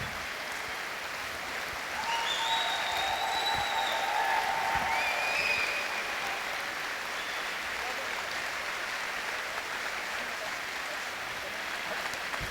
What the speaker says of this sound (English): Wait till they quit clapping.